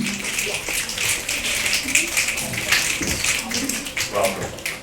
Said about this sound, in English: Can we make Mr. Curtis Brown feel welcome by giving him a coffee house clap, please?